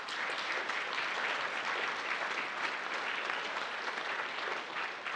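An audience at a youth talent show in the Enosburg Opera house applauds the sponsors, a full, even roar of many hands clapping continuously at moderate level without pause.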